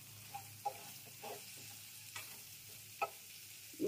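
Pointed gourd frying in a pan over a raised gas flame with a little turmeric, a soft steady sizzle broken by several sharp scrapes and clacks of a utensil stirring, close and fairly quiet.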